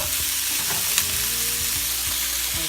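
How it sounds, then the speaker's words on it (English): Lo mein noodles with vegetables fry in a hot pan, giving a loud, steady sizzle over a low hum, with a faint clink partway through. "And I'm going to add my noodle"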